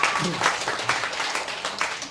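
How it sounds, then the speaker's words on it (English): An audience at a live salon talk gives a short burst of applause, scattered claps rising and falling, with a voice speaking over it. "You can applaud that."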